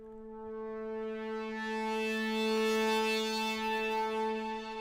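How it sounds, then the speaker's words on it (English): A single sustained synthesizer note with a rich, buzzy harmonic tone, swelling gently in brightness and holding steady for several seconds. "We are using a MIDI soft synth today"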